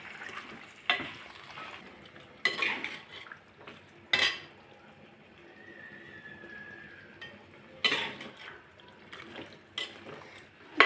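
Chicken with ginger garlic paste is stirred and fried in a pan: intermittent sharp scrapes and clanks of a utensil against the pan over a soft continuous sizzle, spaced irregularly across the stretch.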